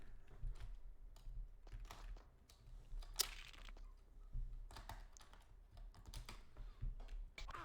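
Irregular bursts of clicking keys on a computer keyboard, close but fairly quiet, with uneven pauses between clusters of keystrokes and one sharper clack partway through.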